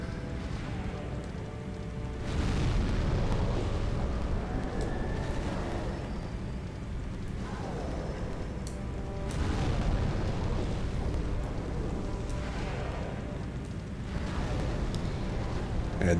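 Deep, rumbling explosions in Demon's Souls on PS3 boom in repeated bursts, each swelling into a long roaring wash of noise like heavy debris raining down.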